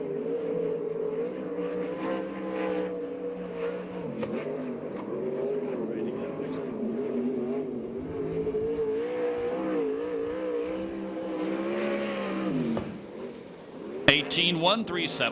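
A USAC/CRA sprint car runs a lap of the Perris, California track at a 2006 race. Its engine gives a loud, continuous high-revving drone that rises and falls through the corners, with a voice talking faintly over it.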